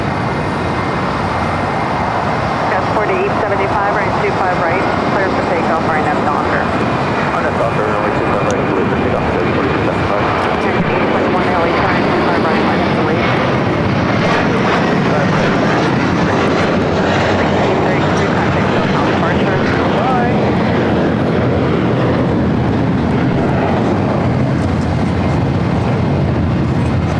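An airliner takes off from runway 25 Right at LAX, its engines a broad sustained roar that stays loud and steady throughout, with faint traffic noise mixed in.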